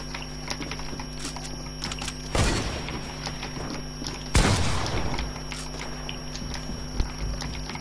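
Carbine fire in a video game comes as rapid bursts of shots with clattering mechanical clicks between them, two loud volleys and a sharp single crack later, heard close over a steady background hum.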